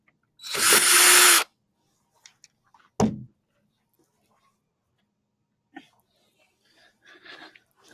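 A power drill backs screws out of a piece being taken apart: one loud, steady whir lasting about a second, then a sharp clunk and a few faint handling noises in an otherwise quiet room.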